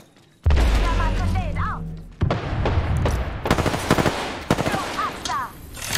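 Automatic gunfire in the battle royale shooter Apex Legends, with loud rapid bursts and sharp impacts crowding a busy in-game mix, bursts of fire recurring across the scene with some crashes along the way.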